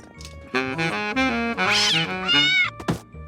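A cartoon kitten from The Simpsons meows in a string of loud, drawn-out, wavering cries, up close, ending with a short sharp thunk.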